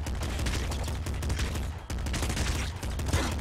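Rapid, continuous bursts of gunfire from enemies in the video game Nuclear Throne, loud and dense with a brief gap midway.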